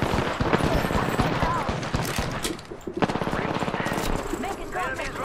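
Rapid automatic gunfire in Apex Legends rattles loud and close in quick bursts, mixed with other combat noise, while character voices speak over it.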